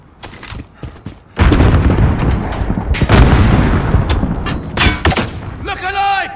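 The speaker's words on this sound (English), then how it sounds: "Grenade out!" A grenade detonating in a video game, a heavy booming blast that rumbles on with debris and crackle, followed by sharp shots and a rising tonal effect near the end, loud and close.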